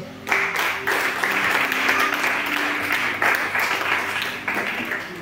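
Church congregation applauding to acclaim the Lord during a French-language Easter sermon, a dense, steady burst of clapping from many hands lasting about five seconds, close and loud.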